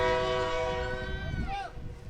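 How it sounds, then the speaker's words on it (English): A passing train sounds its horn beside a girls' high school soccer field in Iowa, a loud sustained chord that bends in pitch and fades as rail rumble continues underneath, with a voice audible over it. "we get another train coming through"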